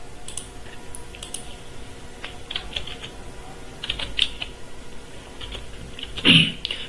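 Fingers type a captcha code on a computer keyboard during an online loan login, giving a steady run of light, close clicks and taps with a louder clack near the end.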